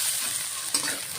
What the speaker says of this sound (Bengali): ভালো করে ভেজে নিতে লাগবো।